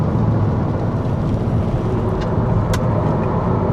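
Electric car, a BMW i3 or Chevy Spark, held at full throttle during an endurance race while badly overheated and vibrating: a steady, loud, rough drone of motor and road noise that stays constant throughout, with no talking.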